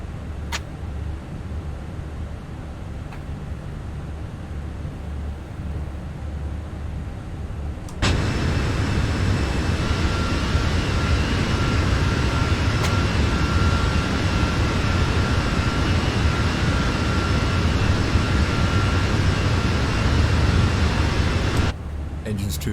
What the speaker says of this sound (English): Engine's too loud.